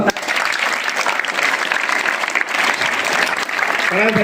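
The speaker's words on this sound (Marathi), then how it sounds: "परत एकदा जोरदार तीन टाळ्या होऊन द्या" Loud, dense applause from an audience at a ghazal poetry event in Akola, steady and sustained throughout, with a voice starting to speak over it right at the end.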